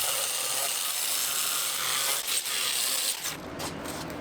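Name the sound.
sanding rusted metal on a classic car body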